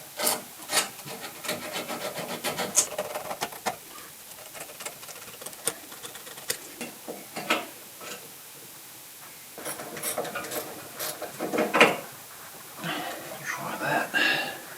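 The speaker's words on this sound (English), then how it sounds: "Get the rust off these." Small metal contact pins from the starter button of a Kawasaki KLF300 4x4 ATV being scraped clean of rust, giving close, irregular scratchy rasping bursts with brief pauses.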